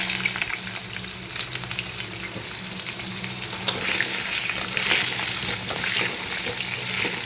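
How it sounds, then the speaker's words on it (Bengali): Potatoes fry in hot oil with black cumin seeds tempered in, giving a dense, continuous close-up sizzle that holds level throughout, with light stirring underneath and no voices. "আলুটা একটু ফ্রাই করে নিই"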